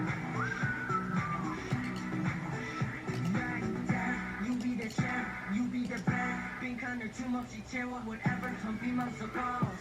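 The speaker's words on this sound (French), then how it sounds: "Oh, ce sifflement." A whistled melody rises near the start over a dense, steady K-pop track with a strong rhythmic beat, the whistle brief and partly buried in the mix.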